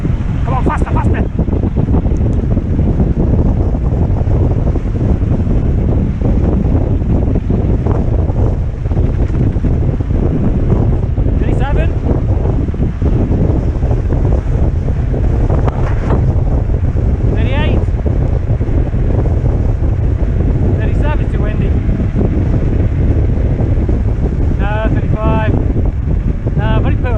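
Strong wind roars into the microphone throughout a mountain bike ride, loud and continuous, with brief faint voices and mechanical chatter breaking through now and then.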